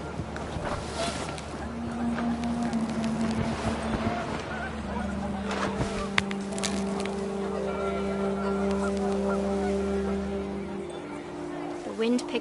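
Panicked geese honking in What Remains of Edith Finch, a scattered flock calling in short and drawn-out honks over gusting wind, while a narrator talks over much of it.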